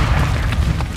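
A grenade blast in Call of Duty: Modern Warfare III multiplayer, a dense, loud low-end boom and rumble filling the moment without speech.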